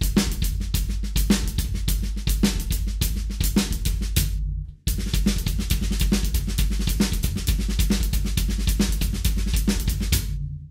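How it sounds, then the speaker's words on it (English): Full drum kit playing a steady linear groove built on an inverted paradiddle sticking, with the bass drum doubling the right hand; dense, close and loud, with a brief pause near the middle before the pattern resumes, no talking. "I'm going to play my inverted paradiddle with my hands and double my right hand part with my right foot."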